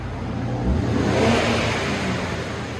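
A 2020 Infiniti Q50 with its 3.0 liter engine revs up and eases back, a close, steady engine roar that swells and settles with no voices.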